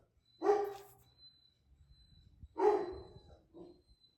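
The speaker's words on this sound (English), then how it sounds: "These dogs always have something to say." Dogs barking at home, two sharp, close barks a couple of seconds apart, each followed by a short trailing yip, with quiet shuffling between them.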